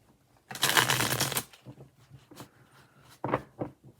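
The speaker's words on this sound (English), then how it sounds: "This deck's a little bit harder to shuffle because with this on." A deck of tarot cards is shuffled close by, a long rippling riffle followed by softer taps and shorter flicks of the cards, without talking.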